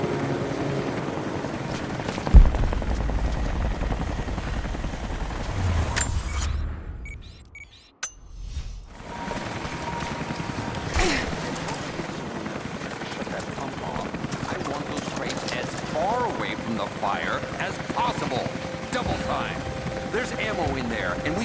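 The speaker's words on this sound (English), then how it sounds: "That was Constantine's chopper." A helicopter in the video game Rise of the Tomb Raider drones steadily with a rumbling rotor, fading out briefly and then returning, while a voice speaks over it.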